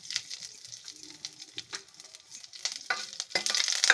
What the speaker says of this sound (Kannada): ಈಗ ಒಂದು ಬಾಣಲಿಗೆ ಎಣ್ಣೆ ಹಾಕಿ, ಸಾಸಿವೆ, ಕರಿಬೇವಿನ ಸೊಪ್ಪು ಹಾಕಿ, ಮೆಣಸಿನ್ಕಾಯಿ ಹಾಕಿ